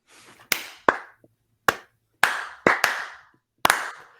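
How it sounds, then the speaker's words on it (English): A slow clap in a podcast studio: about seven separate, sharp hand claps, loud and close, spaced unevenly with short silent gaps between them. "So slow clap for us."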